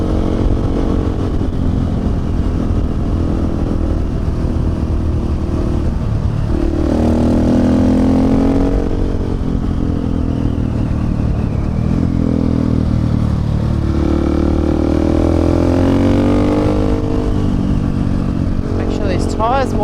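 Two motorcycles, a KTM 690 and a Honda Africa Twin, climb a dry mountain road with a steady engine drone and rising and falling revs. A rider talks over the engine noise throughout.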